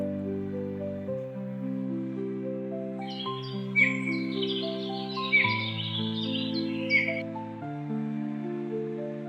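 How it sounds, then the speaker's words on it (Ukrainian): A woodpecker calling in winter, a loose cluster of sharp, chattering bird notes in the middle of the passage, set over steady background music. "Дятел."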